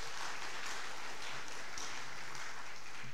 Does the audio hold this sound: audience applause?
yes